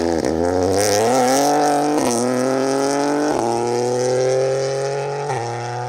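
A Ford Fiesta Rally3 car drives a forest stage at a BTRDA rally, its engine revving hard through repeated gear changes with sharp drops between each climbing pull, loud and close throughout.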